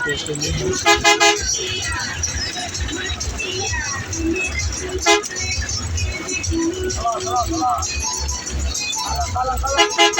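A bus travelling from Dhaka to Cox's Bazar rumbles along steadily while its horn honks in short bursts. Music and people talking sit throughout, close and fairly loud over the engine.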